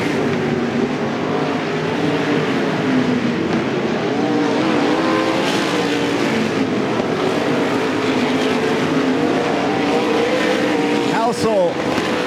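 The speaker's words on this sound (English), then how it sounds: "It's the 3H and Dave Hibbert, your last car on the lead lap." Sprint cars of the Interstate Sprint Car Series roar around Willamette Speedway, loud layered engine drone rising and falling as cars pass, with a race announcer talking over the noise.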